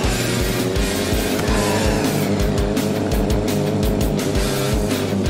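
A car racing at full speed in the zombie driving game Earn to Die 2, a loud, continuous engine roar with a pulsing, rapidly repeating rhythm and no gaps throughout, no talking.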